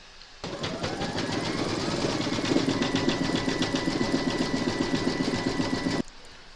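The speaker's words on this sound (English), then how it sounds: "Load your matching bobbin and thread for the feet into your machine and stitch round number 10." A sewing machine stitches applique gnome feet in matching thread in one fast, even, rattling run of about five and a half seconds, close and alone, starting and stopping sharply.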